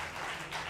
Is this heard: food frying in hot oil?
no